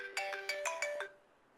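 A mobile phone ringtone goes off during a chemistry lecture: a short, bright melodic phrase of about six quick notes played close and clear, then it cuts off into quiet room tone.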